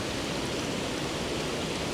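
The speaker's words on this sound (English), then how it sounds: "It's a nice wee waterfall" Small waterfall where two rivers meet, a steady broadband rush of falling water that continues evenly without pause at moderate distance.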